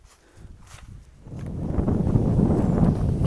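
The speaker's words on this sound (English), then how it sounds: "Can feel that wind picking up" Gusting wind rushes through trees along a hiking trail, building from quiet to a steady roar over a few seconds, with faint footsteps crunching early on.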